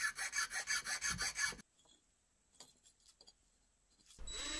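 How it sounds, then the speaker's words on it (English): A hand file rasps back and forth across the edges of a small wooden tool made from recycled materials, about eight or nine loud rhythmic strokes, then quiet handling noises and a final scrape. "I am using a file to finish it up."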